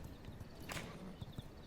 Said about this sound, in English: Wait, this is actually a horse we could use.